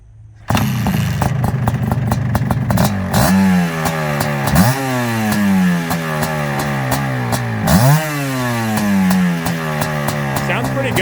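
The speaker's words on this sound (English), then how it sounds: "See if it'll start without choke" Suzuki Quadzilla 500 quad, restored after engine failure, starts cold without choke and idles with a loud rough two-stroke buzz, then revs up in several repeated rising blips close by.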